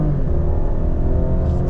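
A 400-horsepower 2021 Ford Explorer ST with all-wheel drive and a 10-speed transmission pulls hard under throttle, heard as a loud, steady cabin drone and engine rumble with no speech; individual gear shifts are not clearly picked out.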